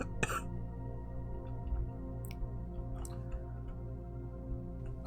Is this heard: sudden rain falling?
no